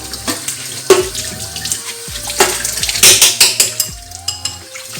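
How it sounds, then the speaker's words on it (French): A metal strainer and funnel are rinsed under a running tap with plain water, steady splashing broken by clanks and knocks of the utensils against the sink, loud and close. "je rince tous les instruments que j'ai utilisés. Seulement à l'eau, pas de savon."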